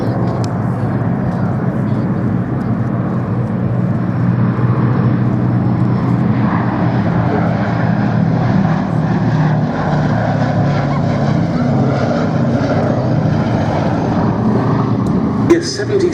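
Piston engines of a B-17 bomber at the Duxford Battle of Britain air show make a steady, loud propeller drone that holds throughout, with a voice talking faintly under it.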